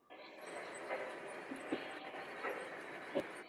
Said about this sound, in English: There's so much diesel power on that train right now.